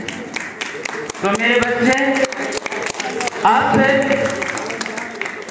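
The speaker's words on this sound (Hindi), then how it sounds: "ताली को थोड़ा कम बजाओ, लेकिन मेरी बात को अवश्य सुनो।" A lecture audience applauds in rapid, dense bursts of clapping while someone speaks over it at the front.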